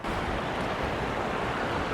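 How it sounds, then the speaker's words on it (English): A stream flows pretty strongly over rocks on a fall hiking trail, a close, dense, continuous rush of water with no breaks and no voices. "now I got to get across this water that's flowing pretty good"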